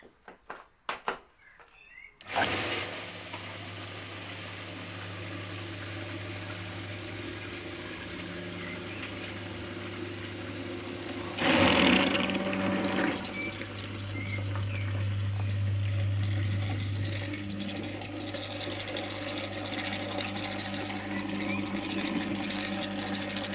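A Güde GFS 401S flat suction pump starts after a brief clatter and then runs steadily, a continuous close motor hum with gurgling water, swelling briefly near the middle, with no talking.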